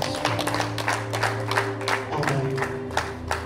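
Congregation clapping hands in praise during a church service, a steady run of overlapping claps repeating in loose rhythm over sustained music, moderately loud and close.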